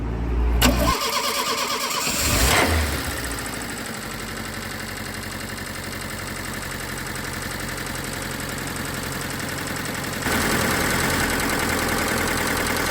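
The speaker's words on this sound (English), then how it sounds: "We might do a cranking test in a minute and see what it drops to" A car engine cranks for a couple of seconds, catches and settles into a steady mid-pitched idle, rising slightly near the end, heard alone during a battery charging test.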